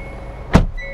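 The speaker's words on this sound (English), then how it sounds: "reaching over here to shut the door" The driver's door of a 2022 Hyundai Sonata N-Line swings shut in one solid, close thud against a quiet cabin hum.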